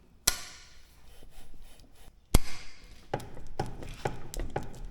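A plastic bushing on a Polaris RZR is struck out with a hammer, two sharp loud impacts followed by a series of lighter knocks and rubbing scrapes, close and otherwise quiet.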